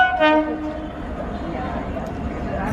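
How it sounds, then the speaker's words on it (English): The Marikuppam passenger train, hauled by a WAP 7 electric locomotive, sounds a short loud horn blast at Bangalore Cantonment station, followed by the steady rumble of the cars rolling past close by. "Marikuppam Passenger between Bengaluru and Marikuppam, Kolar Goldfield."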